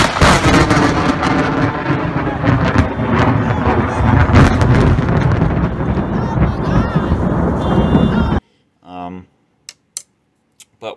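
Harsh crackling and sputtering bursts from a 1965 Gibson GA-20RVT guitar amp with an arcing power tube, loud and dense for about eight seconds before cutting to near silence with a few faint pops.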